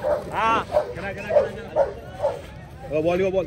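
A dog named Bhairav barks at a dog park, several close, loud woofs in an uneven rhythm with yelping tones, while someone talks over and between them.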